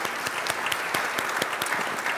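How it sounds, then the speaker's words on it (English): An audience at a plenary session applauds its speakers: dense, steady clapping from many hands that fills the whole stretch at an even, fairly loud level. "A round of applause, please"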